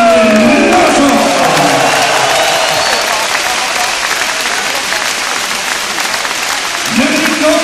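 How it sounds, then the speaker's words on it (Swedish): A loud crowd gives warm applause for Stefan Larsson, number 29, as he is introduced in Scandinavia. Heavy clapping and cheering fill the space without a break. "Ge mig en varm applåd."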